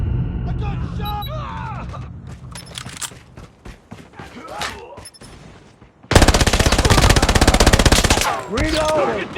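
Automatic gunfire from the mobile shooter game COD Mobile, with an SMG, crackling in loud rapid bursts, heaviest in a dense sustained volley late on, mixed with game sounds and in-game voice callouts.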